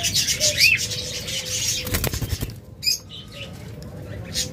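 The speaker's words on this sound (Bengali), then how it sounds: "দেখুন ওদের কাছে কাছে আসতে যাচ্ছে, এগুলো হলো টেম পাখি।" Bursts of wings flapping close by, a fluttering flurry in the middle with light bird chirps around it.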